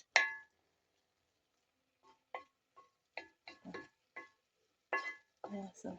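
Tomatoes being stirred and fried in a pot, with sparse scraping and clinking of a utensil against the metal in short irregular strokes over quiet gaps, fairly close.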